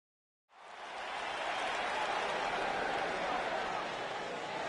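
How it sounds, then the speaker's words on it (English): Arena crowd in WWE 2K19 swells in abruptly after a moment of silence into a steady roaring murmur of cheering and applause, loud and sustained to the end. "The crowd is buzzing with excitement."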